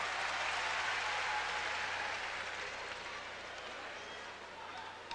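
Ice hockey arena crowd at the 1990 Goodwill Games final between the USSR and the USA, a broad, steady wash of applause and crowd noise that fills the whole clip and eases slightly toward the end.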